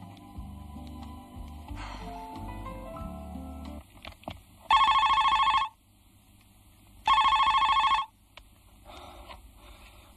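A telephone rings in two long, loud electronic bursts, each followed by a pause, after a stretch of low music, ahead of a phone call.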